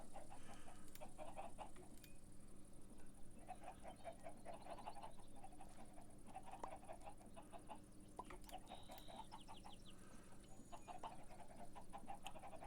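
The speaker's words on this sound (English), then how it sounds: "Yes, the chicken's in-game this time." Chicken clucking inside a video game, repeated short clucks in irregular bursts, faint over a constant low hum with no voices.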